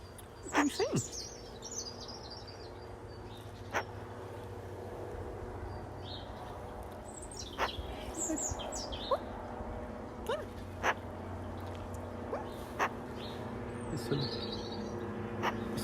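Blackbirds sing and chirp faintly in the distance outdoors over steady wind, scattered short calls across the whole stretch with no talking.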